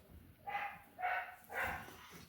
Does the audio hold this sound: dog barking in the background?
yes